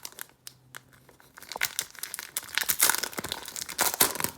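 2020 Topps Gypsy Queen baseball card pack being torn open, a few quiet rustles followed by close crinkling foil wrapper and tearing plastic, growing louder and busier as it opens.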